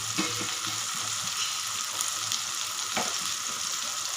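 Spices and curry powder sizzle and fry in hot oil for a wheat vegetable pancake, a steady close crackle with faint stirring scrapes.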